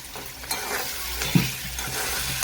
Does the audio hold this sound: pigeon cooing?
no